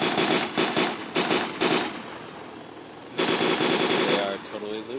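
Rapid automatic gunfire from a helicopter in Take On Helicopters, aimed at targets on a building: two loud, fast-rattling bursts separated by a short pause, the second running about a second.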